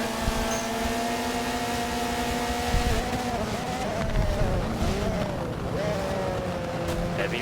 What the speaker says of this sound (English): Heavy braking.